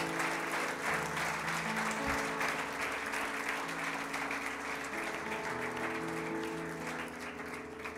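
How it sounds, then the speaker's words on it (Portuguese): A church congregation claps for Jesus at a worship service, steady applause running throughout under sustained organ or keyboard chords. "Pode aplaudir Jesus,"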